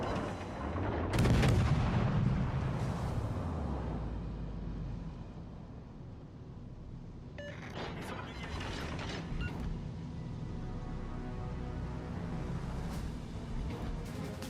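Naval game battle with ship guns firing: a heavy booming salvo near the start, then scattered sharper gunfire reports over a steady rumbling engine and sea background.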